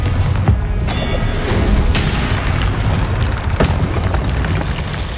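Hogwarts Legacy combat with the Confringo blasting spell, heavy booming explosions landing loud and close in quick succession over a dense, rumbling fight din.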